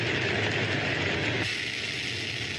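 Hydrogen-oxygen rocket engine roaring at launch, a dense, unbroken wall of low rumble and hiss that shifts slightly partway through, loud and steady with no voices.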